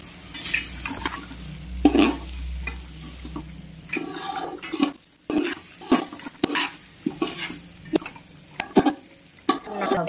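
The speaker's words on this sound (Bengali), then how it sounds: "বেশ খানিকটা চিনি দিয়ে জলে ভিজানো ছিল দিয়ে দিই।" Soaked sugar and water tipped into a hot pot of Bengali pulao, with stirring, clinks of a utensil against the pot and a steady sizzle, several sharp scrapes and taps near and loud, no talk.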